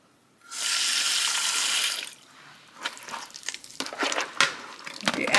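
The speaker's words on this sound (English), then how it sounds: "So putting the water, you have to pour little by little because you know, don't make it too watery." Water runs from a tap into a bowl for mixing dough for an African dish, a steady rushing pour for about a second and a half, followed by quieter splashes, drips and handling sounds.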